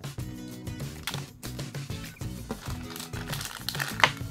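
A plastic packet from a Duck Tales sweet box crinkles close up in a run of irregular rustling bursts, ending in a sharper crackle.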